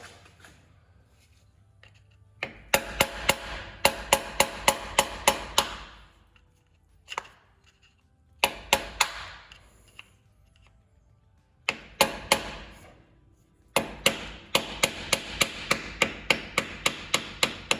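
A screwdriver tapped with a hammer to bend in a flange on a Ferrari 360 during a timing belt service: quick bursts of sharp metallic taps in rapid rows, separated by short pauses, loud and close.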